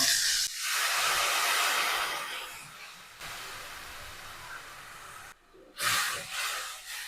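Tamarind water squeezed from soaked tamarind poured into a hot pan, setting off a loud, bright hissing sizzle that runs nearly continuously, breaks off briefly, then flares up again close by.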